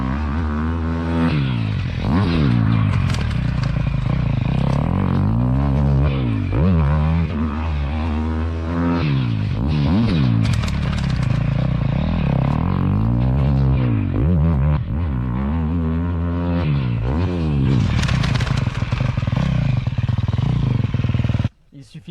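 Motocross bike ridden over a triple jump, engine revving hard in repeated rising and falling bursts with clattering landings, loud and close throughout before cutting off at the end.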